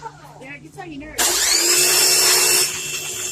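A Harbor Freight Portland 1750 PSI electric pressure washer starts after some talk, its motor whining up into a loud, shrill, steady scream that drops slightly near the end, recorded close by.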